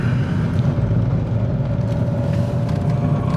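A car engine drones steadily with a low, labored rumble and road noise, sounding strained under continuous load from a failing transmission.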